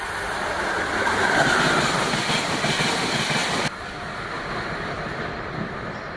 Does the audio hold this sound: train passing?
yes